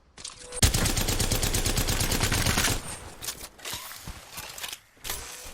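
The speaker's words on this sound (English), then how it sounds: "Now, the Havoc is a very high DPS weapon, and I would suggest trying to learn it." Havoc energy rifle firing in Apex Legends: a loud sustained rapid-fire burst lasting about two seconds, followed by scattered quieter shots and clatter.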